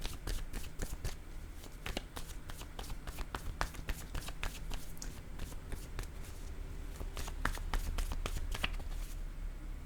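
Cards handled from a deck, a string of crisp close papery flicks and taps running steadily throughout, with a low room hum underneath and no talking.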